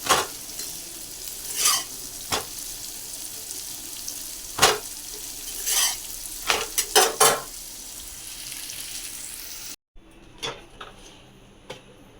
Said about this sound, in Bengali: আর এই হচ্ছে মিষ্টি কুমড়ো আলু পেঁয়াজ দিয়ে ভাজা